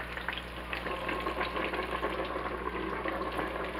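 Chicken frying skin down in a hot pan at 400 degrees for mustard fried chicken, a dense, even sizzle that continues without a break, close and with no talk.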